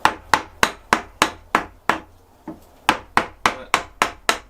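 A hammer strikes a wooden wedge on a bench-top carving table holding an oak piece, about a dozen sharp, evenly spaced knocks, one softer tap in the middle, close and clear.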